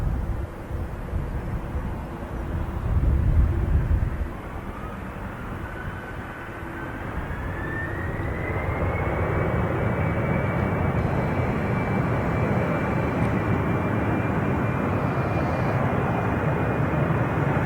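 A jet aircraft takes off from the runway at London City Airport. Its engines build from a low rumble into a loud, sustained roar with a rising whine that holds steady to the end, with no talk.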